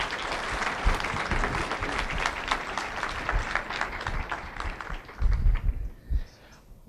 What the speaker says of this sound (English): Ladies and gentlemen, one more round of applause for Omar Offendum.